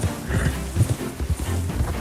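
A horse gallops in a video game, its hooves clip-clopping in a quick, uneven rhythm that stays close and clear for a couple of seconds.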